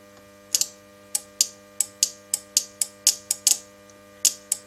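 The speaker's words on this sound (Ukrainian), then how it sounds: "Ви чуєте, що Ролюха десь щелкає?" Sharp mechanical relay clicks snap at an irregular pace inside a Paton Mini welding inverter that keeps cutting out, about a dozen in a few seconds, over a faint steady electrical hum.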